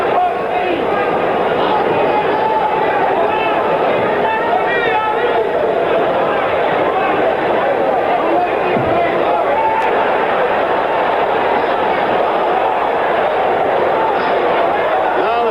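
A dense, loud arena crowd at a 1977 heavyweight championship boxing match between Ali and Evangelista, a continuous roar of voices and babble sustained throughout, with commentary speech running over it.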